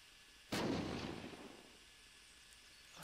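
A single loud grenade explosion in the video game Unturned, a sharp blast followed by a rumbling roar that fades out over about a second and a half.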